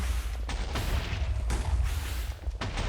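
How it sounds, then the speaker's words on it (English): Wither explosions in the Minecraft video game during a mob battle, a rapid barrage of booming blasts sounding every half second or so over a constant dense rumble, loud and close. "the Wither's explosions have enough of a jostling effect to keep him from aiming"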